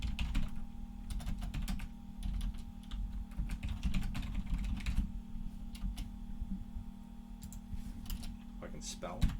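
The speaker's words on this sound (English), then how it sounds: "I can type in my findings." Computer keyboard typing while entering site survey findings, a steady run of quick key clicks over a constant low electrical hum, with quiet talk in the background.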